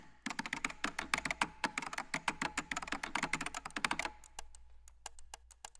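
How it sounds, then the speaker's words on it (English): Sampled computer keyboard typing from a cinematic percussion library: rapid, close, crisp key clicks in an irregular burst for about four seconds, then a few sparser isolated taps. "we sampled a computer keyboard and mouse."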